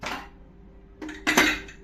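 The lid of a pressure cooker holding spinach dal is closed, giving a short metallic clatter and then two sharper clanks of metal on metal close by, with quiet pauses in between.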